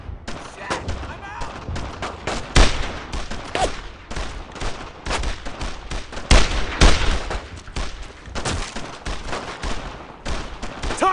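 Dense gunfire in the WWII shooter Brothers in Arms: Road to Hill 30, with rifle and machine gun shots cracking in rapid overlapping volleys, loud and continuous, mixed with shouting soldiers.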